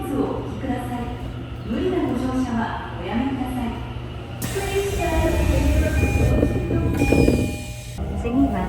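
Train pulling into a Tokyo metro station, its rumble and rattle building under an automated platform announcement and voices, then a loud rush of wheels and brake noise with a brief high squeal.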